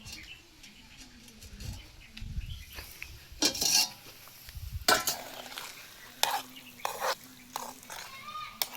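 A rice dish cooking in a pot is stirred with a utensil, giving irregular scraping and rustling strokes in separate bursts with quieter gaps between them, heard close up.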